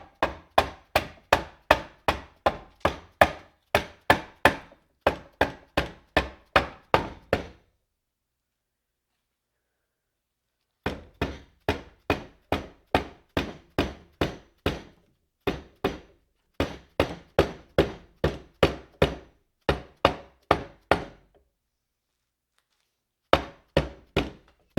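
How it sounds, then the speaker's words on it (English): Rubber mallet tapping around the outside of a Suzuki DR350 motorcycle engine bottom end during assembly, heard as rapid, even bursts of solid thunks that stop and start in several runs. The blows are close and loud, with no talking. "I'm going to use a rubber mallet and just kind of beat around"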